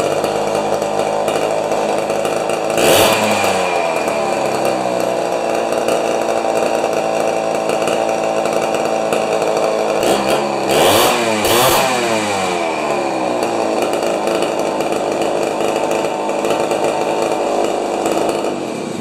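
A Homelite XP1020 chainsaw with an old carburetor runs loud and steady close by, its engine revving up sharply a few times before settling back to a constant buzz.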